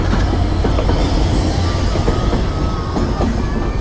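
An intercity train passes close by with a loud, continuous rumble of wheels and carriages, rhythmic clatter and faint squeals over the roar.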